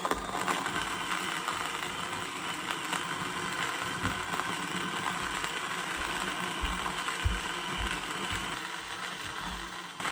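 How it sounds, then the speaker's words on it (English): An OUTIN Fino portable electric espresso grinder grinds coffee with a steady, continuous mechanical whir and faint rattling, close and unbroken throughout, with no talking. "In terms of noise, we have less than 60 decibels. So in reality, it is really quiet for an electric grinder."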